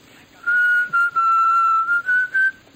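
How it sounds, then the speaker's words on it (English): A person whistles a short wavering tune in several breathy phrases, fairly close and clear against a quiet room. "Who's whistling? Who's doing that?"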